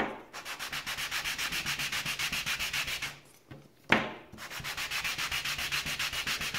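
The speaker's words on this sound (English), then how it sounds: "You don't really want to sand on a piece of paper that has a lot of gunk on it." Sandpaper rubbed by hand in quick, even back-and-forth strokes, close and loud, about two strokes a second, with a short pause near the middle before the steady rasping resumes.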